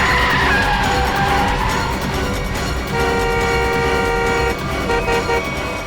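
A car with failed brakes skidding, tyres screeching in long wavering tones alongside honking horns, loud and close, with no talk.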